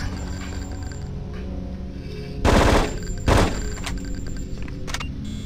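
AK-47 gunfire in the video game Hitman: two short, loud bursts of shots rise sharply over a steady low in-game ambient hum, with quiet clicks between them.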